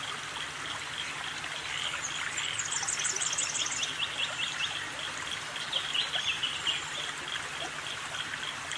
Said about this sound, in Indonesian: Perkutut Jawa, memiliki nama ilmiah, Geopelia striata.